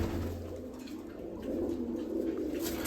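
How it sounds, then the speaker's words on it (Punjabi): Low, soft cooing of a female pigeon repeats steadily at close range, with faint background hiss and no voices. "ਇਹ ਜੀ ਕਬੂਤਰੀ"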